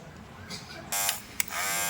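A repaired electric hair clipper switches on with a sudden bright buzzing hum that runs steadily, briefly cuts out with a click, then resumes, close and fairly loud.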